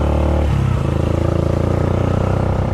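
A motorcycle engine throbs close by with a steady, rhythmic putter, its revs dropping once before it settles into a loud idle, with no voices over it.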